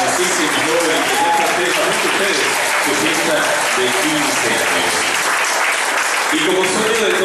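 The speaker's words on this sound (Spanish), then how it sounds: "Así que fuerte el aplauso de nuevo para nuestra hermosísima joven" A crowd at a quinceañera celebration for a fifteen-year-old girl claps loudly and continuously. The dense applause is mixed with cheering voices and a background hubbub.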